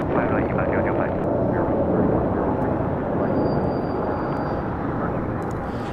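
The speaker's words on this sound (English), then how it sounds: "3103 taking off to Atlanta on an A320neo" A Spirit Airlines Airbus A320neo takes off from LAX, a loud broad engine roar sustained throughout with a faint voice in the background.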